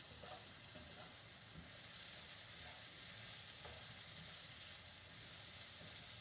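Risotto rice, mushrooms, shallots and scallions toast in olive oil in a pan, giving a soft, steady sizzle and hiss that continues evenly with faint stirring scrapes, quiet and close.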